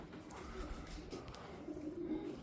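Soft, low cooing of pigeons in a pigeon loft, continuous and fairly faint, with a murmur of birds in the background.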